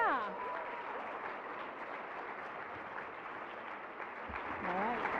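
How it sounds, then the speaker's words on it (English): Keynote audience applauding for a presenter, a sustained dense clapping crowd with a few cheers, while a voice briefly talks over the start and end. "round of applause for Russ"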